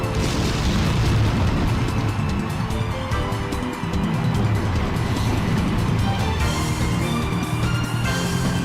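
Sludge Bomb attack effect from the Pokemon Colosseum video game, a loud, dense, continuous roaring blast with rumbling bursts sustained for several seconds, no voices.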